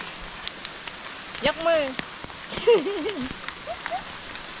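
Steady rain patters on a jungle hiking trail on Phu Soi Dao in the rainy season, a constant wet hiss beneath people talking and exclaiming nearby.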